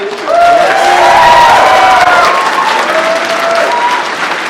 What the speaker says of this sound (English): can I get a round of applause for this?